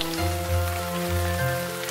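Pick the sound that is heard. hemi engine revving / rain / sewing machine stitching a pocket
rain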